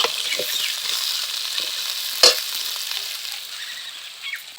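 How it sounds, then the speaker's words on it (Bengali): Kohlrabi and potato frying together with onion and chopped tomato in a pan; a loud, steady sizzle with one sharp clack of a spoon midway and light stirring scrapes, no talking. "ওলকপি আর আলু একসঙ্গে খুব ভালো করে ভাজতে হবে এটাকে"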